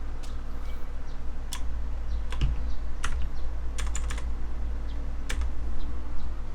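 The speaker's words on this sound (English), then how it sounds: "Am I typing this right?" Irregular clicks of someone typing on a computer keyboard, scattered keystrokes over a low steady background hum.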